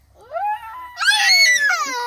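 A small child blows into a broken pipe to imitate an elephant, producing wavering, trumpet-like wails: a rising tone, then a louder, brighter blast that slides down near the end.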